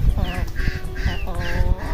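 Several farm turkeys call in a close, loud burst of repeated gobbling, honking notes, overlapping one another in quick succession.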